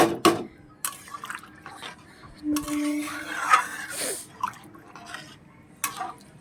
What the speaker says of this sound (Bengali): এবার যেটুকু জল দেওয়ার মতন আমি দিয়ে দিয়েছি, এটাকে ভালো করে নাড়াচাড়া দিয়ে